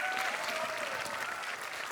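Studio audience at a Slovenian school quiz show applauding, a dense, steady burst of clapping filling the whole moment without a break.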